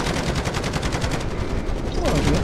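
Many turrets fire in Call of Duty Modern Warfare Zombies, a loud continuous rattle of rapid automatic gunfire in dense overlapping bursts.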